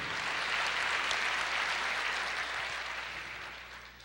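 Church congregation applauding during a Portuguese-language sermon, a dense, steady wash of many hands clapping together that gradually fades toward the end.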